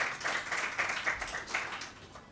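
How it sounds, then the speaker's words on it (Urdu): A studio audience at a religious quiz program applauds a correct answer with brisk, lively clapping. The clapping swells and fades in uneven waves, close and moderately loud. "حضرت علی کرم اللہ وجہہ بالکل درست جواب ہے، تالیاں ہونی چاہیے"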